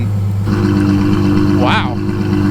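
A Ferrari 812 Superfast fitted with a Kline Inconel exhaust, valves open, holds a loud deep V12 drone, then gives one quick rising and falling rev blip close by.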